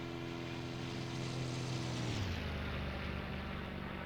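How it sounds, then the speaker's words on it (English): A propeller aircraft roars past in a flyby in the flight game IL-2 Sturmovik: Battle of Stalingrad, its steady engine drone dropping sharply in pitch midway as it passes, loud and continuous throughout. "And we can do a flyby"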